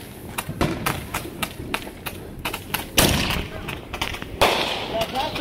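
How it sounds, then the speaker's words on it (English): A rapid string of sharp Roman candle pops and crackles on New Year, with two louder bursts near the end and voices faintly underneath. "we're currently lighting up our last firework."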